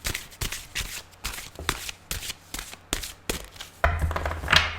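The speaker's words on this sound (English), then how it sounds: "One more shuffle, and either it will fall out or I will" A deck of tarot cards shuffled by hand in a steady series of rhythmic riffles and taps, close and moderately loud, ending with a louder rustling handling of the cards.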